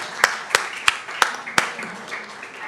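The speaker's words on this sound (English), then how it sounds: "Please clap once more for all of the wonderful panelists that have spoken and sung to" A single pair of hands claps in a slow, irregular rhythm, five sharp, close slaps spaced about a third of a second apart, at a workshop honoring the panelists, with faint room noise beneath.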